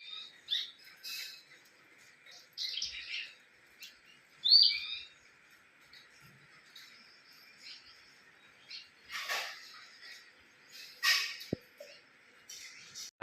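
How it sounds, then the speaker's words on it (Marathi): An eagle calls from a jackfruit tree in green monsoon countryside in the Konkan, giving short, sharp, high calls at irregular intervals, fairly faint and distant against a quiet background. "गरुड ओरडतो आहे इकडे ह्या झाडावरती वाटतं फणसाच्या"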